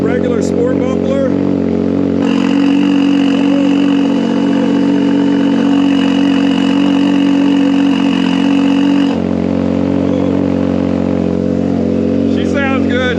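A Ford Maverick R with a regular sport muffler exhaust idles loudly and steadily up close, a deep even drone that steps up slightly for several seconds before settling back, with brief talk at the start and end.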